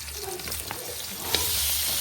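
Pork meets garlic and onion in a hot pan for Filipino pinakbet, giving a close, steady sizzle that swells louder after a faint clink, with no talk.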